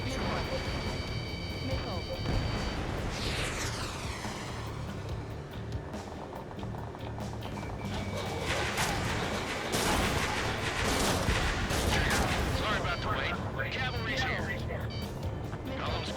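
Explosions and rapid gunfire from the jet-combat video game Ace Combat 7 crowd a dense, continuous battle mix, with synthetic lock-on and missile tones sweeping overhead and radio voices speaking throughout.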